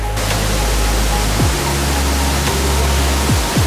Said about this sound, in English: that was Satodi Waterfall